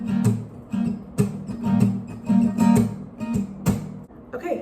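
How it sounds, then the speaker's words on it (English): Acoustic guitar strummed with the fingers and palm-muted at the end of each stroke, giving a soft, choppy rhythm of dampened chords at a steady pace, close and moderately quiet. "you just strum with your fingers, obviously, and you just kind of mute the end of it so it kind of sounds a little bit quieter"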